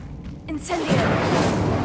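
Casting the Incendio fire spell in Hogwarts Legacy brings a quick whoosh followed by a rushing, crackling burst of flame that fills the rest of the moment at steady loudness, with a voice briefly heard at the start.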